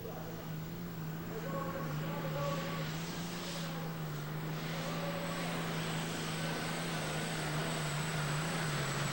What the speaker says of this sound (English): The Superstock division has an attraction all of its own, with plumes of dense black exhaust smoke and whining turbos